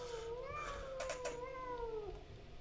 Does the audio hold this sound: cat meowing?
yes